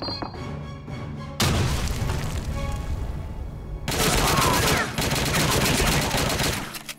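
Loud booming blasts and dense bursts of gunfire in the video game Blade of Agony, with a heavy explosion around two seconds in and another broadband burst near four seconds, sustained chaotic combat noise throughout.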